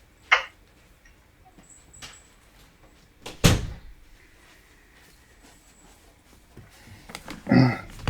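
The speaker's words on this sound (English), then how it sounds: "I'm going to have to shut the door." A door thumps shut with one sharp loud impact near the middle, amid quieter knocks and shuffling, and a second softer bang near the end.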